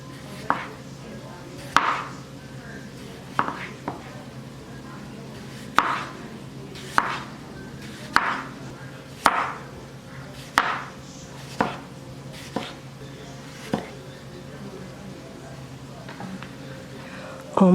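A knife thinly slicing potatoes on a cutting board for creamy beef and potatoes, with crisp, evenly spaced chops about once a second, close and clear over a steady low kitchen hum.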